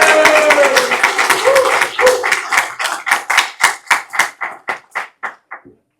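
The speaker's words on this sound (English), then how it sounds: "she needs a rowdy round of applause" A rowdy round of clapping at a Rotary club meeting for a member: a dense burst of applause that thins to scattered, loud individual claps spaced out toward the end.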